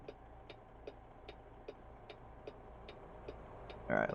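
Steady ticking of a truck's right turn signal in American Truck Simulator, about ten evenly spaced clicks over a low engine rumble, ending in a brief louder burst.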